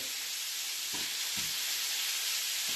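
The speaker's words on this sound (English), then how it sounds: "get the mince nice and brown" Minced meat browning in a frying pan for chilli con carne, a steady close sizzle and hiss with a couple of soft stirring scrapes.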